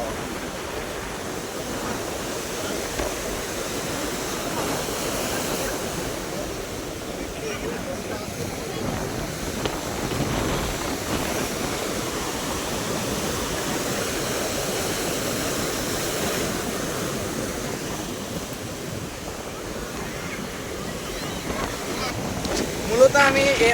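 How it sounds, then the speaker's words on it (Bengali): Rough sea waves roll and crash onto a beach in a continuous heavy roar mixed with strong wind buffeting, with surges building and receding over the long stretch; a voice is also present. "এত পরিমাণে ঢেউ, প্রচুর পরিমাণে ঢেউ উঠছে"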